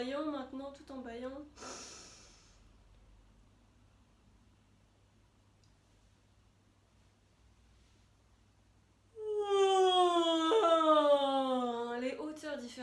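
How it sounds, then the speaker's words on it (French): A singer yawning while vocalizing in a breathing and singing exercise: a breathy, sighing voiced tone sliding up and down in pitch, with a long near-silent pause before another extended gliding yawn-sung phrase. "Explorez en bâillant maintenant"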